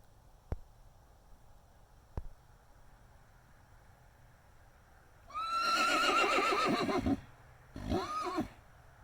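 A horse neighs at dawn. After two sharp, faint clicks, a loud, close whinny rises and trembles for nearly two seconds, then a shorter second neigh follows against quiet background hiss.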